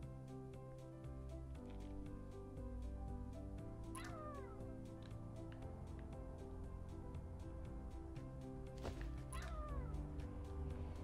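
A cat in the game Barbie Dreamhouse Adventures meows a few times over light looping game music, short rising cries spaced apart, clear and up front.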